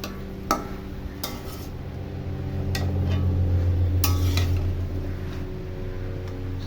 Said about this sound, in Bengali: ঢাকনাটা উঠিয়ে আবার নেড়ে দিব।